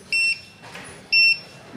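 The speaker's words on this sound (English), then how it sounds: "we have utilized the buzzer and LED for a vehicle indicator experiments from RP2040 carrier board" A buzzer on an RP2040 carrier board, driven as a vehicle indicator prototype, gives two short electronic beeps about a second apart, clear and alone against a quiet background.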